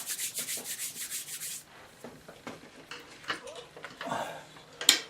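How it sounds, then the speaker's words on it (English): A brush scrubs rhythmically at watercolour paints in a palette, quick soft rubbing strokes in a steady pulse at first, then irregular scratchy dabs and light taps, close and quiet. "you have to scrub away at the paints until they soften"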